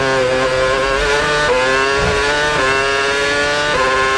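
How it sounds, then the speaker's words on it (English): A real 2013 Red Bull RB9 Formula 1 car engine screams at high revs, loud and continuous, its pitch climbing through gears with brief dips at each upshift. "take a listen to how realistic this car sounds. First some footage of the real Red Bull RB9."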